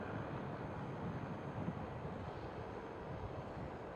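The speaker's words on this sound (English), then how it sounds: "there goes the Lufthansa" A Lufthansa airliner departs from Amsterdam Schiphol toward Germany, heard as a steady, broad engine roar that holds at an even level throughout, with some wind noise on the microphone.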